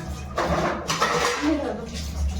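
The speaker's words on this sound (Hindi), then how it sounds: "मैं कढ़ाई रखने जा रही हूँ इंडक्शन पे" A metal kadhai is set down on an induction cooktop in a home kitchen, giving a few short clanks and scrapes of cookware while someone talks over it.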